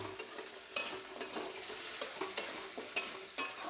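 Borboti beans and potato cooking in a pan: a steady soft sizzle with a stirring utensil scraping and clinking against the pan in irregular, fairly close strokes about every half second, with no voices.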